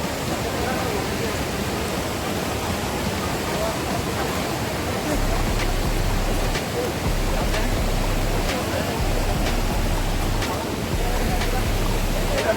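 Water rushes steadily at a river crossing near a waterfall in a broad, continuous roar, loud and close, with faint rhythmic ticks partway through and no clear talk over it.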